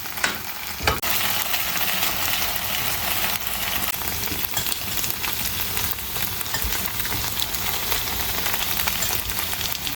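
Starch-coated tofu pieces fry in hot oil in a pan, a steady dense sizzle running throughout with brief louder crackles near the start, close and fairly loud, no talking.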